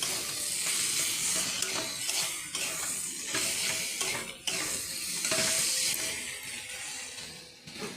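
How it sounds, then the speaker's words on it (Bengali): Chopped tomatoes frying in a pan for Bengali ghugni, a steady close sizzle with occasional stirring scrapes, moderately loud throughout. "এবার আমি কেটে রাখা দুটো টমেটো দিচ্ছি"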